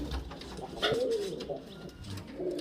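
Kalshira pigeons kept for sale, a low soft coo rising and falling once near the middle, with faint rustling and background noise around it and no clear talk.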